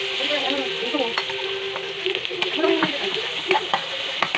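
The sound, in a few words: hotdog sautéing with garlic and onion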